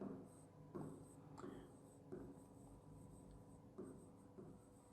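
Chalk or marker scratching across a board during a physics lesson on pressure, a run of close, quiet strokes and taps with brief pauses between them and no talk.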